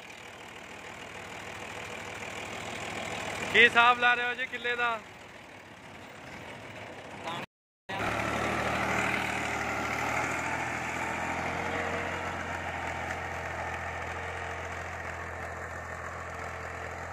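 A 1998 New Holland 480 tractor engine idles with a steady, low, even rumble. Someone speaks briefly early on, the sound cuts out for a moment, and then the idle carries on alone.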